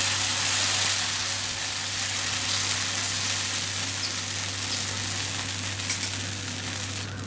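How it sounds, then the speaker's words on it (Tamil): Small pieces of lentil batter frying in oil on a dosa pan give a loud, steady, dense sizzle with constant crackle throughout, with no voices. "எண்ணெய் விட்டுட்டு நம்ம கலந்து வச்சுருக்கிற மாவை கொஞ்சம் கொஞ்சமாக சின்ன சின்னதாக விட்டு எடுக்கலாம்."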